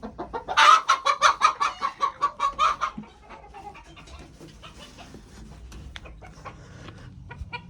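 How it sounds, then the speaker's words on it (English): Farm chickens cluck in a quick rhythmic burst of loud, close calls for about three seconds, then fade into softer scattered clucks and quiet background noise. "So I will give to Wilma and the chickens"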